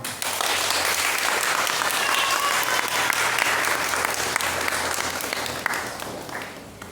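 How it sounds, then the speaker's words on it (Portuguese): Sustained applause from an audience at a Catholic talk on devotion to the Virgin Mary, dense and steady for about six seconds before thinning slightly at the end. "uma salva de palmas"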